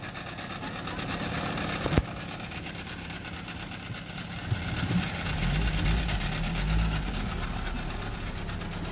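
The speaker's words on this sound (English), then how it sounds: "Your tractor's running." A Kia Rio car engine running roughly just after starting, a steady uneven idle rumble with a sharp knock near two seconds and a surge in low rumble toward the end.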